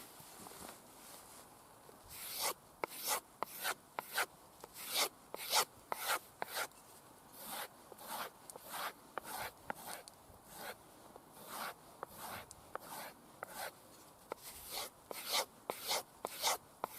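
A BPS bushcraft knife blade is drawn across a sharpening stone in repeated quick, scraping strokes, close and fairly quiet, with an uneven rhythm and short pauses between passes.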